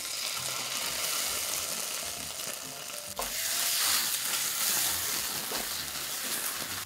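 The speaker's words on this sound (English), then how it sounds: "We are going to deglaze the onions with ketchup." Onions sizzle loudly in a pan as McDonald's ketchup is poured in to deglaze, the hiss rising sharply partway through and staying strong and steady to the end.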